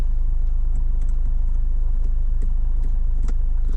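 A car drives along with a steady low engine drone and road hum from inside the cabin, marked by small rattles and clicks throughout.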